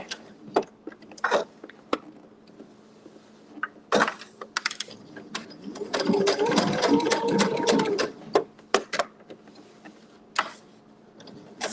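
A sewing machine free-motion quilts a boho floral quilt block, with a few scattered taps and clicks before the motor hums steadily for about two seconds, followed by more sparse clicks.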